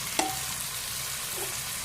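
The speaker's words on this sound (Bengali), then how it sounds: "এই যে গরম তেলে এখন সবগুলো দিয়ে এই যে দিয়ে দিলাম আলুগুলো" Potatoes and cooked meat frying in hot oil, a dense, steady sizzle close by with a single sharp clink near the start, no voices.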